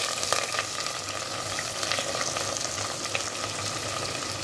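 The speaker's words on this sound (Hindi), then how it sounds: "अब ये देखिए प्याज डालेगा।" Sliced onions frying in a hot pan for a home-style chicken dish, a dense, even sizzle that holds steady throughout, close up with no voices.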